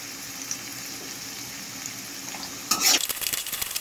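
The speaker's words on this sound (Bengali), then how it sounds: "চুলায় একটি পাতিল বসিয়ে দিয়েছি, এখানে তেলটাও দিয়ে দিয়েছি। এখন আমি প্রথমে ডালটা দিয়ে দিচ্ছি" Dal hitting hot oil in a pot on the stove bursts into a loud sizzle partway through, after a quieter stretch of steady frying hiss, with crackling that continues to the end.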